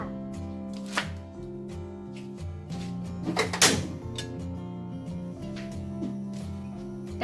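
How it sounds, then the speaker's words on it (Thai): A knife halves chili peppers with several crisp cuts and taps against a board, one louder crunching slice in the middle, over a steady low background hum. "จะผ่ากลางเลยนะคะผ่าครึ่งค่ะ"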